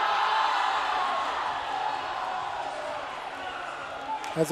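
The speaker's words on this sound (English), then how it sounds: "crowd randomly goes wild for a second" A crowd at a girls' high school volleyball match in a gym gives a loud, broad roar that slowly fades, with scattered bounces and thuds near the end.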